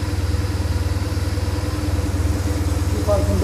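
A BMW motorcycle engine idles steadily nearby with a fast, even low throb, loud and constant across the short stretch, with a slight change near the end.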